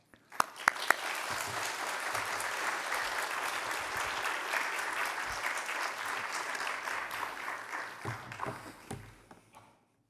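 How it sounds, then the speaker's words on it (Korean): A church congregation claps in welcome for a missionary at a Wednesday prayer meeting, beginning with a few sharp claps that swell into sustained, even applause before tapering off near the end. "우리 곽현섭 선교사님 나오실 때 우리 환영의 박수로 함께 모시도록 하겠습니다"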